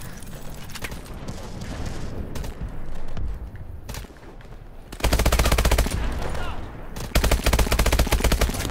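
Call of Duty: Advanced Warfare gunfire, scattered shots early on, then loud sustained bursts of rapid automatic fire close by, broken by a short pause and resuming at full volume.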